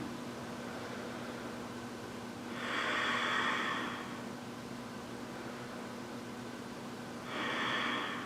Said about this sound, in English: How's the Ujjayi breath going?